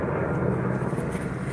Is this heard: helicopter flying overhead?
yes